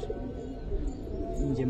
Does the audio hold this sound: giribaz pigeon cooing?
yes